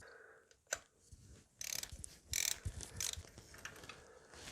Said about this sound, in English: you're gonna need a 14mm spark plug socket